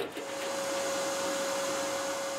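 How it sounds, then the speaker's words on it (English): A laser printer engraving machine runs with a steady, close mechanical whir and a constant high tonal whine, alone and unchanging after a brief start-up. "one of the most popular attractions focuses on this laser printer"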